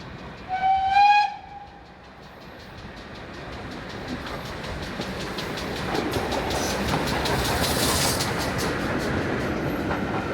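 A train on a heritage railway line north of Toddington gives a short whistle blast, then rolls past with a steady, building rumble and clickety-clack of wheels, fairly close and without talk.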